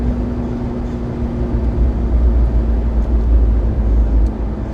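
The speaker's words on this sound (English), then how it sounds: "I apologize if the wind noise is kind of crazy. It is a convertible after all." Constant broadband wind roar buffets the cabin of a 2015 McLaren 650S Spider convertible driving with the top down, a low steady engine drone beneath it, no talking.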